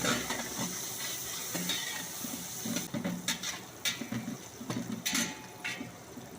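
Onions frying in a pan for sambar, a steady soft sizzle with scraping stir strokes and a few brief sharp clinks of utensil against the pan.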